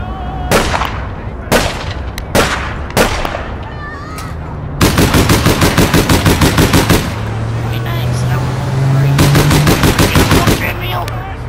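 Loud gunfire in the APB Reloaded video game, first several single sharp shots spaced apart, then long rapid automatic bursts of evenly spaced rounds, close and dominant over a steady low background hum.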